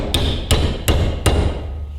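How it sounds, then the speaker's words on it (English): A hammer strikes a Ferguson TEA20 tractor lift plate four times at a steady rhythm, each blow a sharp, loud metallic smack close by with ringing decay, no talking. "I could heat it up or just smack it. I'm just going to try the smacking method first"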